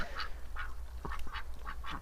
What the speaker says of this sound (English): I've also got a bunch of really noisy ducks this morning